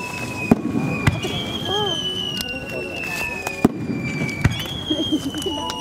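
Fireworks bursting over Lake Kawaguchi during the ice candle festival near Mount Fuji, sharp cracks and booms recurring every second or so amid crowd chatter and voices speaking nearby.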